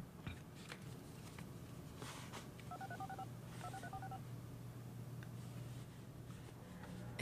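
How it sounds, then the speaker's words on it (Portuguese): Telephone keypad tones from a number being dialed, two short bursts of rapid beeps over a low steady hum in a quiet room. "Claro, eu tenho que ligar para Isabel."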